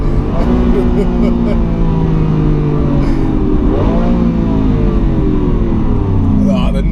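Lamborghini Aventador engine roaring loud and close as the car accelerates in its most aggressive drive mode, a steady heavy drone with a rising sweep near the middle, heard from inside the cabin.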